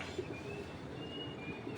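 Soft pigeon cooing over a steady low background hum, faint and somewhat distant, with no voices.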